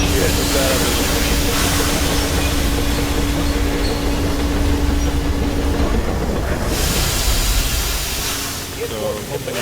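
A train turntable in the video game Metro Exodus switches on in an underground Moscow setting, giving a steady loud mechanical hiss and rumble with a faint hum that runs throughout and eases slightly near the end.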